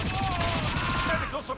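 Pistol gunfire from the video game Mass Effect 2 sounds as a dense, steady rattle of shots layered with battle noise and a swooping tone, loud and continuous over a very brief stretch.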